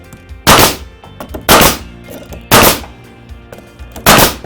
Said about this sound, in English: Go for the trusty nail gun.